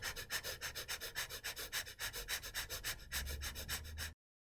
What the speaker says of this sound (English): So it's really short, shallow breathing, which is replicating what happens in the stress response.